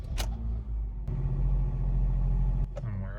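A 2013 Honda Fit engine idles at about 1,000 RPM with its accessory belt removed, a steady low close rumble with a few short clicks, and someone talking over it.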